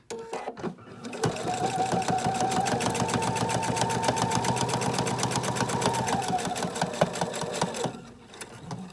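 A sewing machine runs a steady, fast continuous stitch along a placemat, close and loud for about seven seconds before stopping, with brief handling noises at the start and end.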